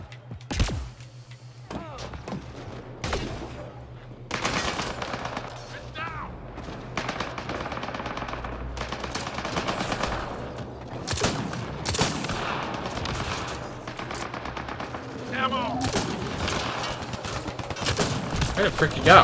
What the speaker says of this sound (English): Enemy fire. Careful.